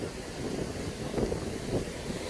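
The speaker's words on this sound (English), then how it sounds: "That is windy!" Strong outdoor wind gusting steadily, with a broad rushing roar buffeting the microphone and slight surges, no voices.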